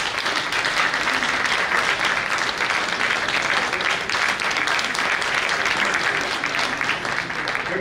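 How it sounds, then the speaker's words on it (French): A large audience bursts into sustained, loud applause for a government minister at the launch of the Djaka Festival Adja 2022 in Abidjan, a dense steady wash of clapping that lasts throughout. "Le ministre Paul Madis, il faut l'applaudir très fort."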